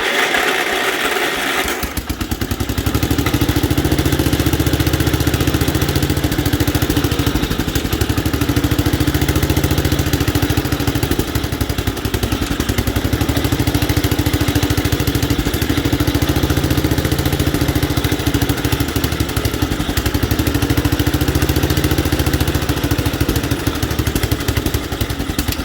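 A 1967 Gravely 430 walk-behind tractor's engine catches after choking and then runs roughly for the full stretch. The loud, close, uneven idle has a persistent rattle and no talk over it.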